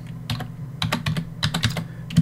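Keys clatter on a computer keyboard in quick irregular bursts of clicks, close and fairly loud over a steady low hum, with no talking.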